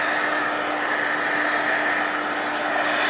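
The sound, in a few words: hair dryer drying mixed media art pieces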